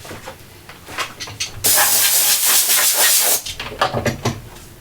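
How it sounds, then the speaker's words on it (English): A sustained blast of compressed air hisses loudly for about two seconds as it clears dust off a turned wooden bead bowl, a Raffan-inspired design, with quieter workshop clatter before and after. "Just want to blow off the dust."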